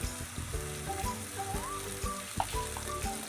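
Dried fish being stirred with onion and turmeric in a pan, with a soft sizzle of frying and faint scraping of the spatula.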